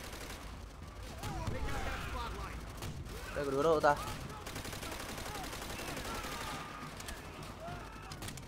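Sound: gunfire in video game Call of Duty World at War

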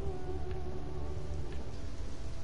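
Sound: rain and thunderstorm in The Sims video game

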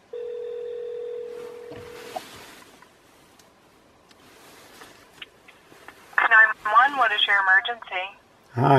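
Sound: phone calling 911 on speakerphone

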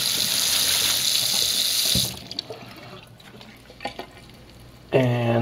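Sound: rinsing hydroponic growing media under a tap

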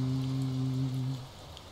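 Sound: thunderstorm rain in video game Touhou Genso Wanderer

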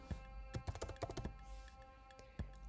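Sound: typing a function name on a computer keyboard

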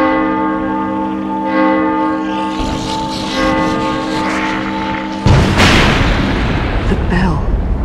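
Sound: bell ringing in video game The Evil Within DLC

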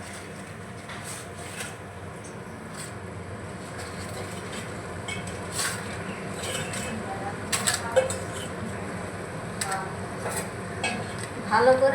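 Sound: stirring fried papad into boiling gravy in a pan

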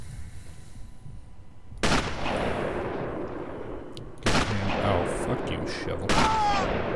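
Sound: gunfire in the video game Sniper Elite

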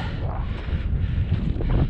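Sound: wind on a Black Forest hiking trail

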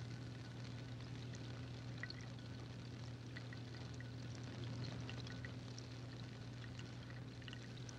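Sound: water bubbling during electrolysis

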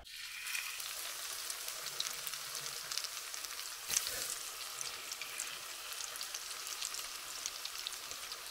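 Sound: cutlets frying in a pan

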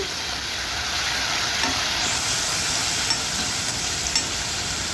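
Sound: stirring soy sauce into restaurant-style Apollo fish fry

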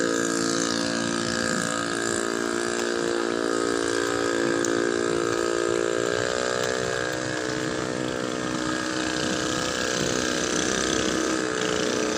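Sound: boat engine while docking at a temple pier

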